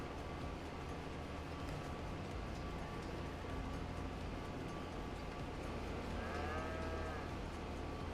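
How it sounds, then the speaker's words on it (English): Cows mooing in a Farming Simulator 25 livestock pen, a drawn-out moo rising near the end over a steady, noisy farm ambience, with no talking. "But this is the closest I could put the cows."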